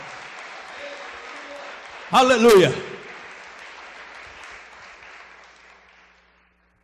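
A church congregation bursts into a short, loud burst of applause and cheering lasting about a second, rising sharply over ongoing speech from a preacher, then fading back under his voice.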